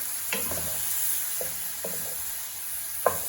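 Shrimp sizzling steadily in a hot pan, a constant bright hiss broken by a few light scraping stir strokes, with no one talking.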